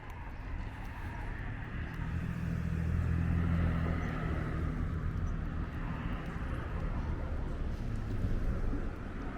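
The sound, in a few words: traffic on Cropsey Avenue, Brooklyn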